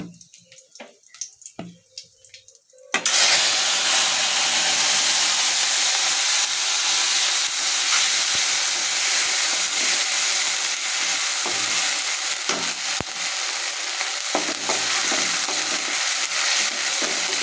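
A ground paste of green chili, garlic, ginger and onion hits hot oil in a pan, bursting into loud steady sizzling after a few quiet scrapes, with occasional spoon clicks and stirring over the continuous frying hiss.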